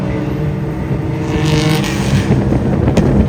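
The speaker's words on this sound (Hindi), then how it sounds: "आवाज सुनो भाई, ये रिक्शे की आवाज है।" A loud, rough motor roar from a rickshaw with a modified silencer passes close by in Thailand, a brief burst of rumbling engine noise with no voices.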